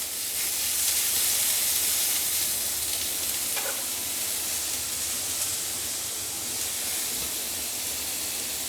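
Raw mango pieces fry in a pan, giving a steady loud sizzle and hiss of hot oil that runs unbroken throughout, with no talking.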